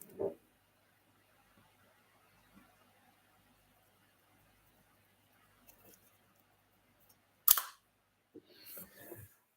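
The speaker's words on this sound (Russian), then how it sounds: "Затвор, на самом деле, как говорят знатоки, шелестит." A film camera's shutter fires once, close up, as a sharp brief click with a soft rustle, followed by a short mechanical winding noise in an otherwise quiet room.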